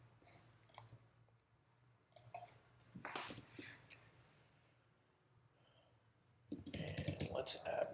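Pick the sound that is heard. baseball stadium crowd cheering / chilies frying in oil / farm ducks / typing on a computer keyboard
typing on a computer keyboard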